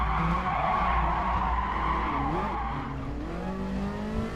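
A car brakes hard in a racing video game, its tires skidding in a long, loud, continuous squeal over engine noise that drops off after about three seconds into a lower rumble.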